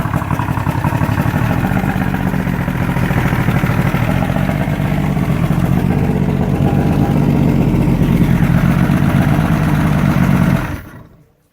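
A 1979 Glastron Carlson CVX-20 boat's engine runs steadily and loud at close range for about ten seconds with a low, even rumble, then cuts off abruptly near the end.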